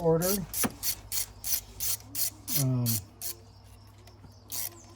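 A ratchet backs out engine bolts on a 2008 Nissan Murano during intake removal, two bursts of rapid clicking separated by quicker single ratchet strokes, close and fairly quiet with no speech.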